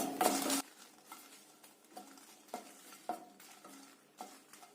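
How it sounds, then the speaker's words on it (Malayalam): Roasted dried chillies are stirred in a pan just after the flame is switched off: a loud scrape opens, then spaced spoon strokes scrape and tap against the pan at a slow, irregular rhythm, with no talking. "ഓഫ് ചെയ്തിട്ട് ഒന്നും കൂടെ ഒന്ന് ഇളക്കണം."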